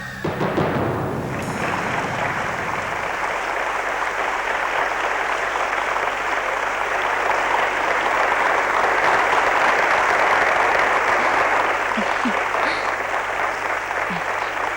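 Loud, sustained applause from an audience at a stage performance of a horror show, a dense clapping roar that runs steadily for the whole stretch after a brief opening sound.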